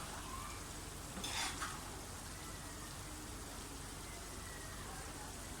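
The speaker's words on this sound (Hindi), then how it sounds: "एक तो मरतबा हिला लें।" Moong dal khichdi rice being stirred in a pot, a soft scraping and bubbling sizzle with a brief louder stir near the start, faint and continuous, no talk over it.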